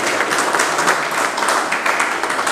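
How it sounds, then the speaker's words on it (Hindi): Audience at a party workers conference giving a guest a loud welcome, a dense, sustained wash of clapping from many hands that holds steady throughout. "पहले आप लोग ज़ोरदार तालियां देकर के उनके इस्तकबाल करें"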